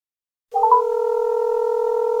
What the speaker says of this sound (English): So right now I'm gonna dial this number on my phone